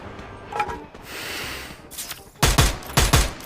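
A teammate's gunfire in the video game Free Fire crackles in short bursts: a faint rattle early on, then two loud, close volleys of rapid shots near the end.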